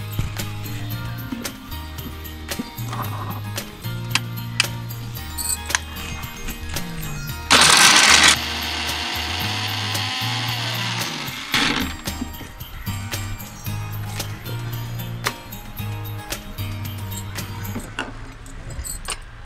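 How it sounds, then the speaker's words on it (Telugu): A kitchen mixer grinder grinds cashews, almonds and coconut for paneer gravy, a short, loud whirring burst near mid-clip amid quieter rhythmic mechanical background. "కొబ్బరి వేసి గ్రైండ్ చేసుకుందాం మిక్సీలో."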